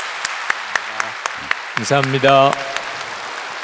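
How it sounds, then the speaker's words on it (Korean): A church congregation claps in a sparse, evenly spaced rhythm during a Sunday service, and a voice speaks briefly in the middle as the clapping carries on softly. "우리 박수로 환영해 주시기 바랍니다"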